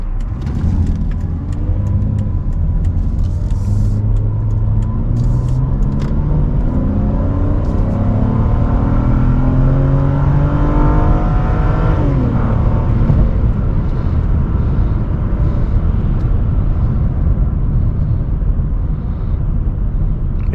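A Volvo S80 3.2 pulls away, its engine rumbling loudly from inside the cabin and climbing in pitch through the gears over a constant road roar.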